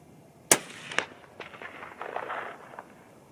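A single sharp rifle report from a 25-06 Remington firing a 117-grain Sierra GameKing bullet on a clean, cold bore, followed by a quick echo and fading rumble.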